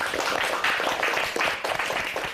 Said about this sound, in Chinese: 那让我们先热烈的掌声祝贺他们一下